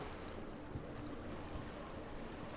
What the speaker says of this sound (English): you can hear the sea waves slashing about in the background